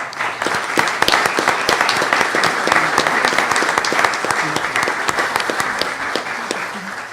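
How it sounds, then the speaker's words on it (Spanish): An audience at a genealogy conference claps steadily, a dense crowd of hands sustained at even loudness throughout before thinning slightly at the end. "Un aplauso, por favor, para Antonio Guerrero Aguilar"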